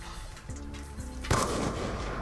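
A single sharp pistol gunshot from the video game Black Ops 2 cracks out partway through, preceded by quieter game ambience and followed by a lingering noisy tail.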